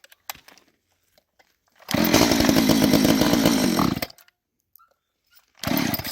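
A Homelite 240 chainsaw engine catches and runs for about two seconds in a loud, rough buzz, dies, and briefly fires up again at the end, with faint clicks in the gaps.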